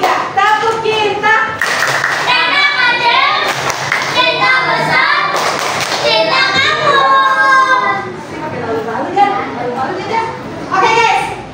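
A school class clapping through the "tepuk cinta" routine in rhythm, with sharp, loud, close claps mixed with children's chanting voices throughout.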